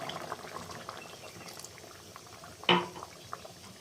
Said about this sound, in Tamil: தேங்காய் பால் சேர்த்து அடுப்பை சிம்மில் வச்சுக்கோங்க